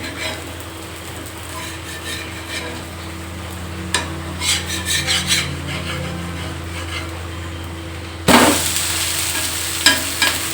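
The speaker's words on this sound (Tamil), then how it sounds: "நல்லா வெந்துருச்சு, திருப்பி போட்டுக்கிறோம்." A drumstick leaf dosa cooks in sesame oil on a pan with a low, steady sizzle and scraping spatula strokes. After it is flipped, a sudden louder burst of hissing rises, followed by a few more scrapes.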